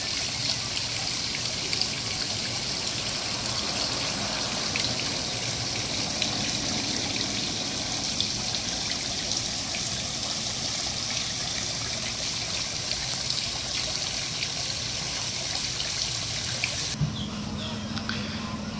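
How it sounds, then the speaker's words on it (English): A very large fountain at Hialeah Park in South Florida, splashing and streaming in a constant, even wash of water that shifts slightly in tone near the end. "It's actually a very large fountain."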